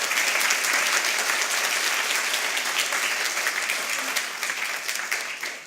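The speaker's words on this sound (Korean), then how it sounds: "우리 환영의 박수를 한번 하겠습니다." Church congregation giving welcoming applause to a visiting elders' choir, a full, sustained crowd of clapping hands at steady volume that tapers off toward the end, with no voices over it.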